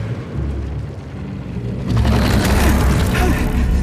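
A heavy explosion booms in Atomic Heart, a deep rumbling blast that swells suddenly midway and lingers as a loud roar of debris and low noise.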